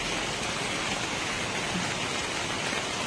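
Heavy rain pours down steadily, a dense, even hiss of falling water that fills the whole scene at constant loudness with no breaks.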